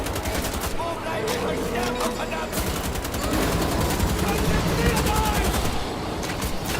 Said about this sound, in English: Shoot the Gaggenhor!